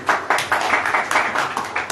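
A congregation claps along during a Hindi Christian sermon by Brother Rohit Massey, quick steady rhythmic hand claps from many people, close and fairly loud.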